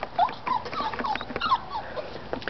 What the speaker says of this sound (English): Aren't you cute puppies?